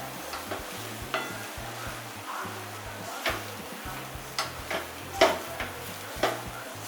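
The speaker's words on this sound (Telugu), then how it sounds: "ఈ మిశ్రమాన్ని బాగా నలువైపులా కలుపుకుంటూ అడుగట్టకుండా చూసుకోవాలి" Mint rice with cooked rice being stirred around a pan, a spoon scraping and tapping the bottom in irregular strokes over a faint sizzle, close and fairly quiet, with no voices.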